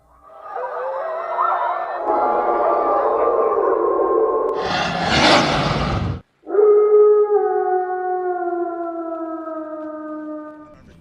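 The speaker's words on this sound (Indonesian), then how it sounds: "semua serigala mengaum dengan kuat" Pack of wolves in the film The Grey howl loudly in long wavering cries that swell and overlap, broken by a brief harsh burst and short silence before several sustained howls resume together.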